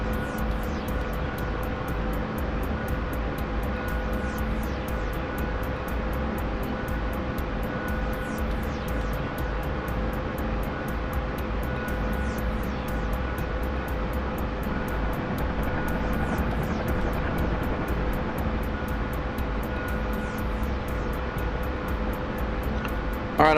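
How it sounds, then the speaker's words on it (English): A Huey helicopter in flight inside a video game, a steady loud engine and rotor drone that holds continuously for the whole stretch with no talk over it. "Another long-ass Huey flight."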